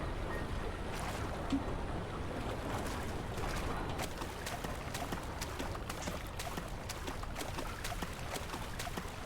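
A turning water wheel in Amnesia: The Dark Descent churns steadily, a continuous wash of splashing water with faint repeated clatter, sustained and even throughout with no voices.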